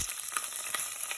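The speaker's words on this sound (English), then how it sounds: "so now I'm browning the chicken" Chicken pieces browning in a hot frying pan, a steady close sizzle with small pops and crackles running throughout, no voices.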